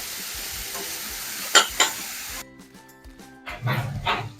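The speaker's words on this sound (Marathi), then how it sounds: "आता हे दोडके जे धुवून ठेवलेले आहेत ते दोडके टाकून घेणार मिक्स करून घ्यायचं" Washed ridge gourd pieces go into a hot pan for a spicy dal bhaji and get mixed in, with a steady sizzle, a couple of sharp spoon knocks, then scraping stirs; a dog barks briefly in the background.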